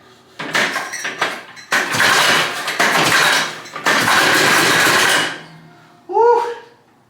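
A neglected 1983 Honda Odyssey FL250 go-kart engine sputters and revs in loud bursts, cutting out between runs, with a short voice exclamation near the end.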